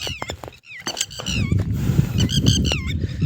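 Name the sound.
red-wattled lapwing calling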